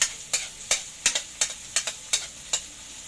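Tomatoes sautéing in a pan for papaitan, with a faint sizzle under a regular series of about nine crisp spatula scrapes, close up with no talking.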